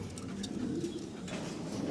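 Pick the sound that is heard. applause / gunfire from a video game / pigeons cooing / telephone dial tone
pigeons cooing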